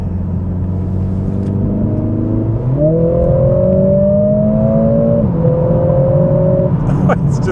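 Mercedes CLA45 S with 420 hp driven in race mode, its engine droning loudly from inside the cabin and climbing in pitch through the gears with a shift partway through, ending in a brief crackle.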